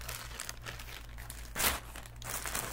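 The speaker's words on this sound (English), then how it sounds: "So there will be some crinkling." A plastic Temu package being opened, soft crinkling and rustling close by, fairly quiet, with a sharper crackle around the middle over a faint low hum.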